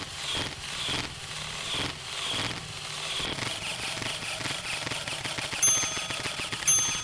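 A Nerf Pro Gel Fire Uproar gel blaster firing continuously, giving a dense rapid stream of mechanical shots with a steady whirring drive and occasional high metallic dings, close and loud, with no talking.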